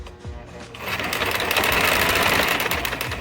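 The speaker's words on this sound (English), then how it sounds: "I'm finally done stitching one side" A sewing machine stitches a pillow, starting up after a brief pause and running in a steady, fast, buzzing whir that grows louder and holds close to the listener.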